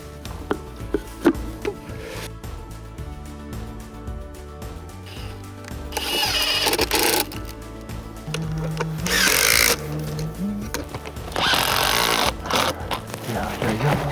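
Power screwdriver driving screws to fix a bird house onto a post outdoors, with two loud whirring bursts of the driver midway and near the end, mixed with handling noise while people talk.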